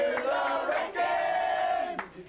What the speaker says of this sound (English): Redskins fans cheer their team to a playoff victory